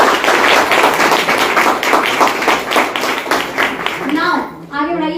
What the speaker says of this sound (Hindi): ताली बजा सकते हैं तेज से